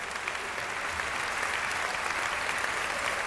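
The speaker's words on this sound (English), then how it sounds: "Barrett crying and Red 13 clapping" Steady applause from a crowd in a Final Fantasy VII Rebirth cutscene at the Gold Saucer fills the whole stretch, dense and even, with no voices standing out.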